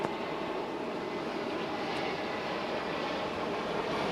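An airliner takes off at Dallas/Fort Worth Airport with a steady, unbroken jet roar that holds at an even loudness throughout, with no talking.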